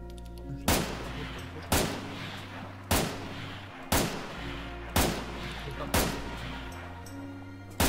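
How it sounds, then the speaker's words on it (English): Six loud gunshots ring out at steady intervals of about a second during a night hunt, each a sharp close crack with a short decaying tail over a low engine-like hum. "I'm taking shots, guys."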